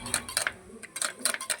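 A spoon repeatedly clinks and taps against a tumbler while stirring lemon juice and salt, a quick irregular run of light metallic ticks, close and quiet.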